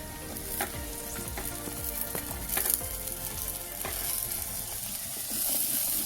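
Six cloves of finely chopped garlic sizzle and fry in a pan, a dense hiss and crackle with a few louder spits and stirring scrapes, close and steady, no voices.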